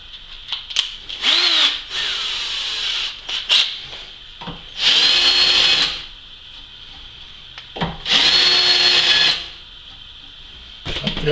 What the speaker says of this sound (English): let's just chamfer these edges up a bit.